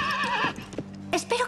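Horse whinnies loudly up close with a wavering neigh, followed by a few sharp hoof clops and another brief whinny.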